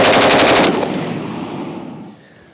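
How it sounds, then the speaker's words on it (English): An M1918 BAR automatic rifle firing a rapid burst downrange, a loud, close rattle of shots for under a second, followed by a fading echo and quiet tail. "Man, that's a lot of firepower going downrange"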